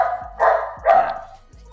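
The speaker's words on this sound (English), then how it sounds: "Please forgive the noise of this dog" A dog barks indoors, two or three sharp barks in quick succession with a short whimpering trail, fairly close and loud, with no talking over it.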